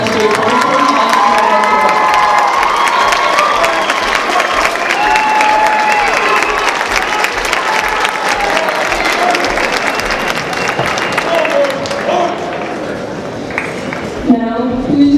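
A school assembly audience applauds and cheers for the newly crowned Snowball King, loud sustained clapping with shouts and children's yells, a voice speaking over the crowd, dying down near the end.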